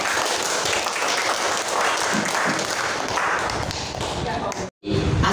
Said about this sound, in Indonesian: Jadi kita tepuk tangan untuk Izzati.